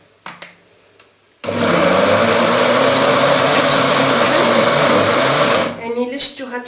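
A blender grinds ingredients for an asthma remedy, running loud and steady for about four seconds before winding down, with brief taps and knocks before and after.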